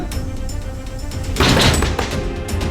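A door is shut during a tense domestic drama scene: a dull thud with a brief rattle that rises out of steady room noise, with no talk over it.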